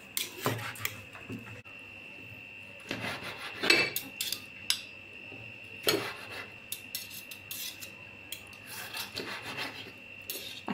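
A knife cutting boiled octopus on a board, with repeated close rasping, scraping cuts in uneven bursts and soft rubbing between them.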